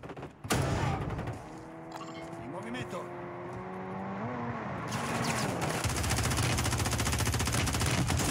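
Video game gunfire crackles in rapid bursts that build toward a dense, continuous volley, mixed with engine-like noise while people talk over it.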